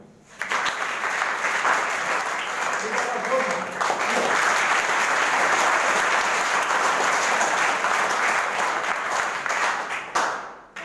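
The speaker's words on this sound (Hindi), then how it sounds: "एक काम करो, अपने लिए ताली बजाओ।" Schoolchildren at Pandit Ramsevak Memorial School clap for themselves in a long, dense burst of applause that starts suddenly, holds loud and even for about nine seconds, then stops sharply.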